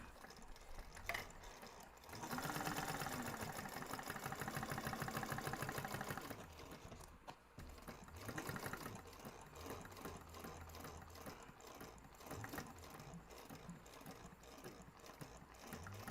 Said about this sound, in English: I'm going to do that second row of stitching